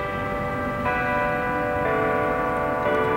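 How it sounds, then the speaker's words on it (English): A church bell rings in clear, sustained tones, with a new strike roughly every second layered over a constant low rumble of background noise. "Yes, you hear it. It's the bell."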